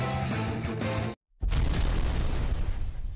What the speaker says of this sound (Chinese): 你的魔法枪好像要爆炸？